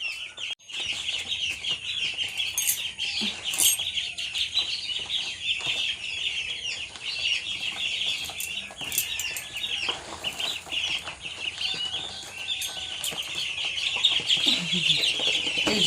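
Young ducklings kept at a home peep continuously in high, rapid chirps, fairly close and steady throughout, with a few louder calls and some faint background noise.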